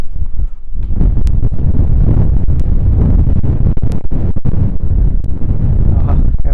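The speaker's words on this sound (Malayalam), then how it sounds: "എന്താ കാറ്റ്." Strong wind at Parunthumpara viewpoint near Thekkady roars and buffets the microphone in a loud, continuous rumble with gusty surges throughout.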